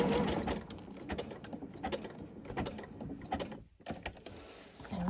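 A sewing machine zigzag-stitching a fabric ornament, its needle clattering in quick mechanical bursts that start and stop, with a short pause near the end, close and fairly quiet.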